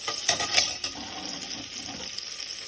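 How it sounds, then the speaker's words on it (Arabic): Butter and flour toasting together in a pan for béchamel sauce, a soft steady sizzle with a few sharp scraping stir strokes near the start, close and moderately quiet. "الطحين والزبدة خليهم هيك يتحمصوا شوي"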